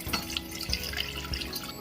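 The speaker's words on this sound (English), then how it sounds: "place the 500 ml water into the pot" Water pours steadily into a pot on the stove while pickled radish brine is being made; a close, continuous splashing trickle with small drips and no talk.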